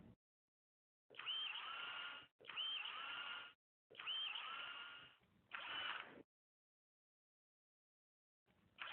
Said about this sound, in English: Start with the smaller 3/32 drill bit and drill the hole.